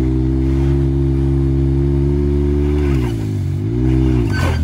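Can-Am Maverick X3 200 HP side-by-side drifting on concrete, its engine holding a loud, steady high-revving drone that dips and swells as the machine slides, close and continuous with no voices.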